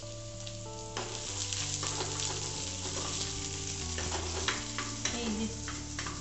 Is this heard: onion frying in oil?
yes